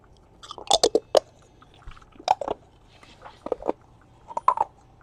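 Someone chewing a stiff, decades-old stick of gum from a 1973 Topps baseball card pack, close-up crunchy bites in irregular bursts separated by short quiet gaps.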